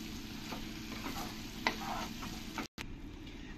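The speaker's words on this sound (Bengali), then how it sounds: "এবার আমি মাশরুমের মধ্যে যে বাটার লবণ হলুদ দিয়ে মেখে রেখেছি এই মাশরুমটাই দিয়ে দেবো। দিয়ে ভালো করে আমি 2-4 মিনিট ধরে কষিয়ে নেব।" Mushrooms coated in butter, salt and turmeric are stir-fried in a pan, giving a steady close sizzle under repeated scraping and stirring strokes.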